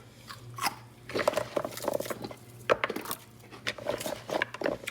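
Raw carrots are bitten and chewed with loud, close, crisp crunches repeating irregularly over several seconds in a home kitchen, with no talking.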